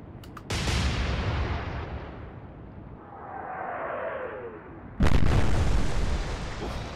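A turret blows up during a naval battle in the warship game Atlantic Fleet, with a loud boom near the start and another sharp, heavy blast later, a low rumble and descending whine between them.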